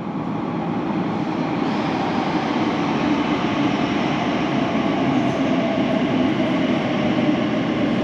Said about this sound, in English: The train approaching platform B is the service to Paddington.